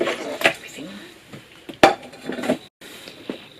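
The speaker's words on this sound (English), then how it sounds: "But first we have to mix the pork" Sliced pork being mixed by hand in a bowl for Thai grilled pork salad, giving soft wet squelches and a few sharp clinks of the bowl in short bursts, with a brief silent gap near the end.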